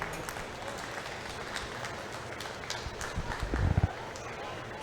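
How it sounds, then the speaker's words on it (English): Scattered audience applause at a junior fair beef breeding show, light clapping in a large space with talk over it and heavy thumping of cattle hooves near the end. "let's give them all a round of applause as they exit"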